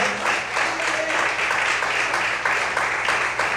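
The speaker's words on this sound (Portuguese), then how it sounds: "Você pode aplaudir o Senhor." A church congregation applauds during a sermon, a dense steady wash of many hands clapping together for several seconds, fairly loud and even, with a faint tonal voice briefly showing through.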